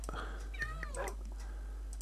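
Cat meows in a Minecraft game, several short in-game mews sounding close and fairly clear, mixed with a man's quiet speech and light keyboard clicks.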